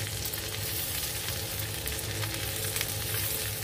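Thick cut boneless pork chops searing in a cast iron skillet, a dense, loud, continuous close sizzle with fine crackling throughout, no talk.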